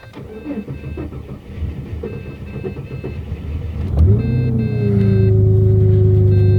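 An engine on a cheap older car cranks hard, nearly failing to start, and catches, then settles into a loud, steady idle hum after some clattering and rustling nearby.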